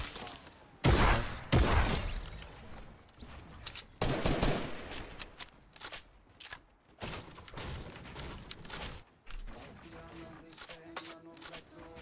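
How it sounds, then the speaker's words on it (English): A minigun in a first-person shooter video game cuts loose in loud, dense bursts of rapid fire that flare and fade across the stretch, with a voice talking over it. "There's a minigun."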